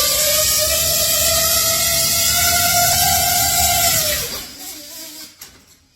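An FPV drone motor and propeller spin on a test stand during a lift-force test, a loud, close, high-pitched whine holding steady before dropping in pitch and winding down to near silence.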